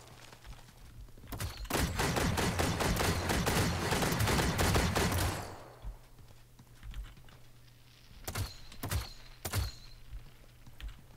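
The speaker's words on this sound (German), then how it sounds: "irgendeiner schießt da wie wild" Wild gunfire in the battle-royale video game Realm Royale: a dense, loud burst of rapid shots lasting several seconds, then a few isolated single shots after a quieter pause.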